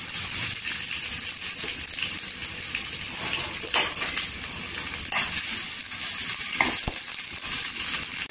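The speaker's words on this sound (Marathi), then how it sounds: "सोनेरी कलरवर कांदा करून घ्यायचा। इथे कढीपत्ता टाकायचा" Onion and curry leaves fry golden in a pan with a loud, dense, unbroken sizzle and hiss, broken now and then by a brief scrape or knock.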